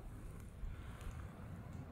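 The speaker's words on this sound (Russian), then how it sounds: "И ветер такой атмосферный." Wind blowing outdoors in snowy, boggy country near water, a soft steady rushing with low rumbling buffets, quiet and continuous, with no voices.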